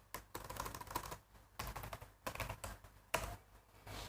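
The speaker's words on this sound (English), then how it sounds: "In that I will type my root password." Computer keyboard keys tapped in short irregular bursts while entering a root password, the clicks close and moderately quiet with brief pauses between runs of keystrokes.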